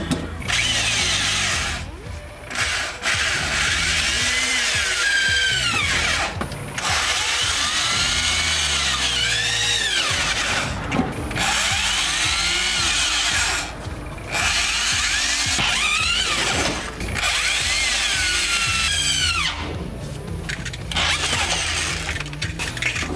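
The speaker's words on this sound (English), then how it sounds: "Let's see what size these holes are. Drill away." Whining power drill running in repeated bursts under a car while installing a fuel system, motor pitch rising and falling as it bites into material, fairly close and loud with brief pauses between.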